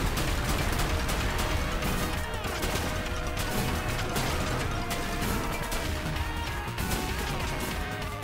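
Dense, continuous booming and crackling cannon fire in the video game The Messenger, loud and unbroken throughout with no pauses.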